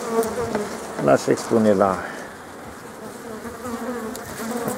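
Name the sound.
honeybees buzzing at wintering hive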